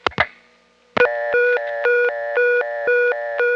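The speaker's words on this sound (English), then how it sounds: "The tone we're on now is called tone C" A three-slot coin payphone in Maryland sits on a telephone test line, where a couple of sharp clicks give way to a loud, steady tone pattern repeating in even pulsing cycles.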